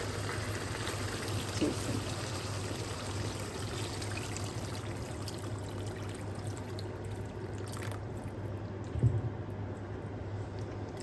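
Water poured steadily into a pot while a traditional lunch of peppers, Vegeta and salt cooks, a continuous close trickle lasting throughout with no talk.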